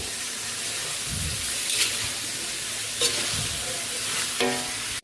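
Vegetables tossed into a hot pan of sautéed pancit bihon canton with lechon, a steady loud sizzle and hiss of frying with a few stirring scrapes and clinks, close up, with no speech.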